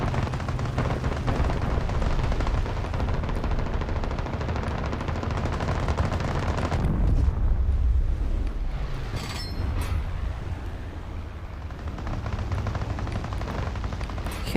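Rapid machine-gun bursts and deep explosive booms from a bombing run in War Thunder Mobile, loud and dense, with rumbling blasts and crackling gunfire running continuously throughout.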